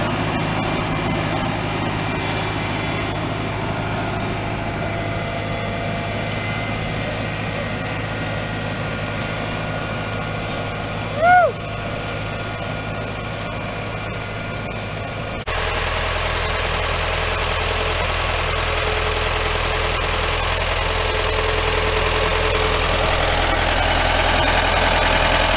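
A four-cylinder New Holland 6810 farm tractor of 98 hp idles with an even, continuous engine drone and a low mechanical rumble, heard close and alone; the tone shifts slightly partway through.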